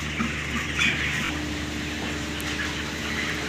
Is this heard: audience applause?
no